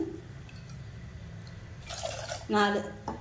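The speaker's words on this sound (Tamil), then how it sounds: "4 கப் தண்ணி ஊற்றிருக்கேன்" Water is poured into a cup of lentils for dal, a brief splashing trickle rising near the end, with someone speaking in the background.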